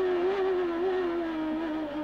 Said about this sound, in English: Engine power difference showing here, Honda versus Ford.